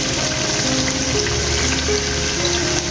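Five-spice powder frying in oil in a pan for a pickle, a steady close sizzle that holds evenly throughout without pauses or talking.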